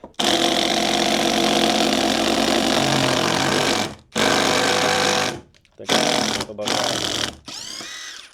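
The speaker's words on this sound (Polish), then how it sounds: "Ustawiłem sobie kantówkę i teraz spróbujemy ją przykręcić wkrętami." A power screwdriver whirs loudly in several long bursts separated by brief pauses, driving long screws into a wooden batten, the motor pitch shifting slightly as each run ends.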